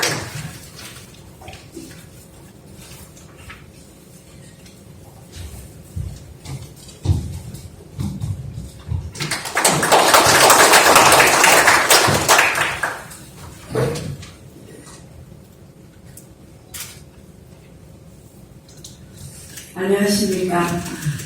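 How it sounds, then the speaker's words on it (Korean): An audience at a science-hall foundation ceremony claps to welcome a speaker. The burst of applause swells for several seconds between stretches of talk from the emcee, with a shorter patter of clapping near the end. "큰 박수로 환영해 주시기 바랍니다."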